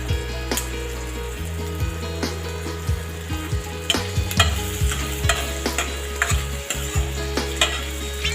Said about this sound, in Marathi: इथं घेतलेल्या आहेत कोथिंबीरच्या काड्या, त्या आपण यात असं टाकायचं फ्राय करायला